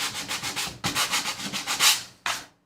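Hand sanding of a painted craft project: quick rhythmic back-and-forth rubbing strokes, close and crisp, in short bursts with a brief pause before a final stroke.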